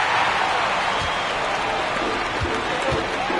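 A Houston arena crowd at a Rockets game in NBA 2K24 roars and applauds in a continuous dense wash of noise, loud and steady throughout.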